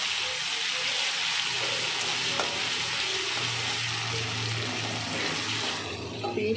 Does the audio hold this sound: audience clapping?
no